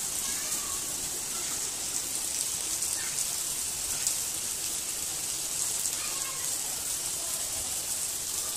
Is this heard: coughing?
no